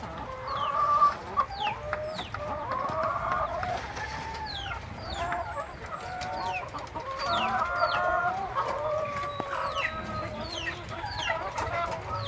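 RTL laying hens clucking inside a cage, a steady busy chorus of overlapping clucks and cackles from many birds, with an occasional crow, continuous throughout with no talk.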